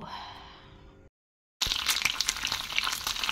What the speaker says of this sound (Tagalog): piniprito na natin yung tinapa natin